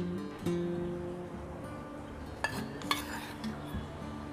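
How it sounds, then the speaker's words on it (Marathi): A spoon whisks two tablespoons of ghee in a bowl for a Rajasthani-style chandrakala (gujiya) dough, giving soft scraping and clinking with a couple of sharper knocks against the bowl, close and fairly quiet, with no talking. "चंद्रकला तयार करण्यासाठी सर्वात आधी मी 2 टेबलस्पून तूप फेटून घेत आहे।"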